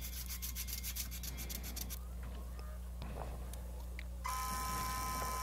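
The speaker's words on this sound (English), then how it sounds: "And as ever, we get a little sanding," Hand sanding on a small shaped workpiece: a steady, close rasping rub that repeats in quick strokes, followed by quieter scraping and a brighter, harsher stretch of abrasion at the end, with no talking.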